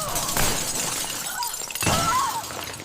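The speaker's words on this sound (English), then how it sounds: "Champagne glasses exploded onto the marble floor." Champagne glasses shatter on a marble floor in bright, splintering crashes, two main bursts of breaking glass with tinkling debris, close and fairly loud.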